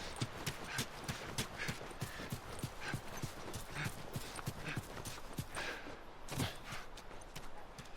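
Steady clip-clop of horse hooves in the video game The Last of Us, a brisk repeating gait of crisp hoof strikes kept up for the whole stretch, moderately loud.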